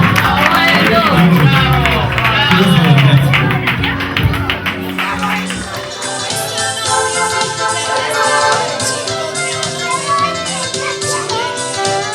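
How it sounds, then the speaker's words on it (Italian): Audience applause and cheering at a Sicilian karaoke show, a steady crowd wash with children's voices and music running under it throughout. "un applauso per Vincenzo, bravissimo"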